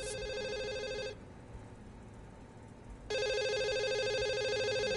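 A telephone rings in The Assembly video game, a loud electronic ringing burst, a pause of about two seconds, then a second ring starting, close and alone.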